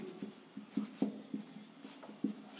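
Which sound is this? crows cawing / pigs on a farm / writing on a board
writing on a board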